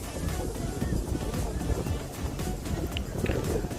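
Strong wind gusting across the top of Banasura Sagar dam, a steady low rumbling buffet against the microphone throughout, loud and continuous.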